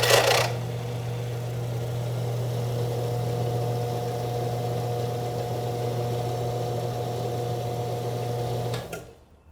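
A car engine starts and idles steadily in a workshop during an alternator and voltage regulator test, with a loud constant hum and whine holding for about nine seconds before cutting off.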